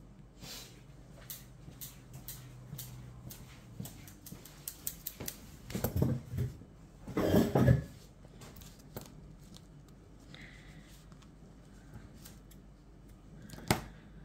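Steel scissors snip thread on an embroidery canvas: a few quiet, crisp cuts cluster in the middle with a last sharp snip near the end, over soft handling rustle.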